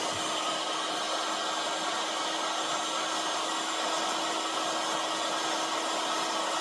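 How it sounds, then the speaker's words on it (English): A heat gun blows steadily on the crankshaft bearing seat of a Stihl MS 251C chainsaw, giving a loud, continuous, even roar with a faint steady whine running through it, close to the mic and with no voices. "I use the air gun to do that. The heat gun. I'm going to heat this center right up."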